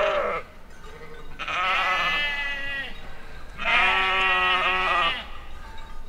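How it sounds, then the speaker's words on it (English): Several sheep bleat near a small road on Tysnes Island, Norway, with two long, loud, wavering calls in succession and fainter bleats between, set against quiet outdoor air. "Lots of sheep."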